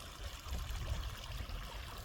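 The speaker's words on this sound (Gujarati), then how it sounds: "જો અહીંયા પાણી ચાલુ છે" Irrigation water runs steadily into a millet field, a faint, even trickling flow with no other sounds.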